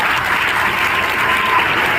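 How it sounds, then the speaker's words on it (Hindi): A crowd at a Haryana government event claps loudly and steadily in a dense wash of applause with no talking over it. "ताली लगा करके जोरदार।"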